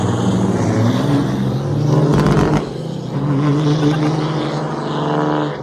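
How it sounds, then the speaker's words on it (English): Diesel cars drag racing at Alaska Raceway Park, loud engine roar that surges, dips briefly midway with a burst of broadband noise, then builds again as vehicles launch and pass. "we've been doing drag racing most of the day"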